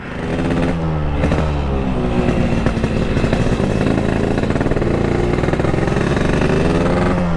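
A motorcycle engine runs steadily after a breakdown, loud and close, with continuous mid-pitched rumble and small throttle variations throughout, no talk over it.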